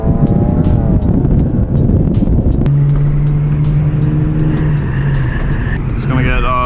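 An AU Falcon's engine revs up and accelerates hard along an open road, a loud, close, rising drone with gear-change shifts and pitch climbs, accompanied by someone talking over it.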